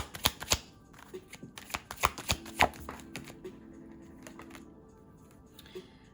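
Tarot cards being shuffled by hand up close, a burst of sharp riffling flicks and snaps followed by softer, sparser card taps, quiet and with no talking.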